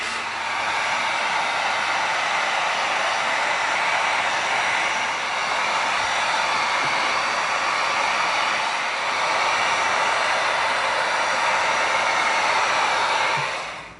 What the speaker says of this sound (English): now we're going to do a once over real quick with the heat gun to seal this whole thing